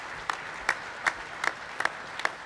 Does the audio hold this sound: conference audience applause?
yes